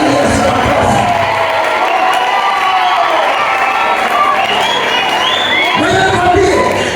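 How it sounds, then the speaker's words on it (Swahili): A church congregation claps and cheers in praise of Jesus, loud crowd noise with whoops and shouts swelling through the room, rising again toward the end. "Utamchapia Yesu makofi."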